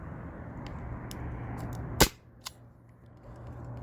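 A Byrna SD CO2 launcher fires a single sharp shot, a loud close crack standing out against steady background hiss, followed by a faint smaller click.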